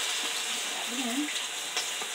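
Grated potatoes frying in a hot pan for hash browns give a steady, close sizzling hiss with faint crackles throughout.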